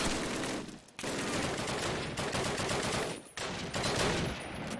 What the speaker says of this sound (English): Oh, that's an MG.